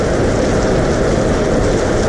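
Steady rain falls in a dense, even hiss with no breaks, loud and close, no voices.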